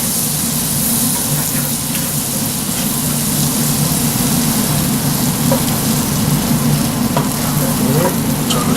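Butter melting in a hot frying pan, a loud steady sizzle with crackling, close up and unbroken.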